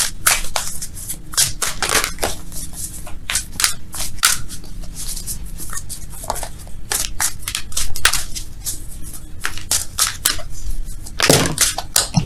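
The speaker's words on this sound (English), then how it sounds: "Let's shuffle for real, though." A deck of oracle cards is shuffled by hand, giving a steady run of crisp, close papery riffles and snaps that come in quick bursts over about twelve seconds, with no talking.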